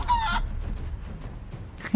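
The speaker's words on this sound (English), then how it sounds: "Let's turn it into a chicken." A chicken in the video game Divinity: Original Sin 2 gives a brief cluck at the start and again at the end, with a quiet stretch of low game ambience in between.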